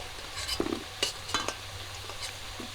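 Potatoes fry in oil with salt and turmeric while a spatula scrapes and clinks against the pan a few times, over a quiet, soft sizzle.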